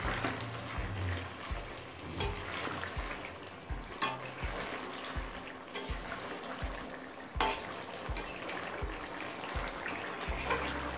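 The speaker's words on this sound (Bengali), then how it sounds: "এবার ভাজা মাছগুলো দিয়ে দিচ্ছি।" Fried amodi fish going into a pan of simmering potato, eggplant and onion-stalk curry, giving a steady sizzle and bubbling with soft scraping and clinks of a utensil, and no voices.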